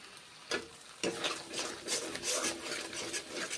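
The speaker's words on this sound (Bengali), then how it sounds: "মুগের ডালগুলো এখন আমি ভেজে নিচ্ছি সাদা তেল দিয়ে" Boiled mung dal frying in white oil with soft sizzling, scraped and stirred by a spatula in repeated rough rasping strokes, fairly quiet and close.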